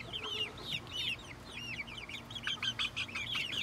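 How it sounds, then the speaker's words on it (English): Rooster and chicken calls, a busy run of short, high vocalizations repeating throughout, fairly close, over a low steady background hum. "so it's a rooster"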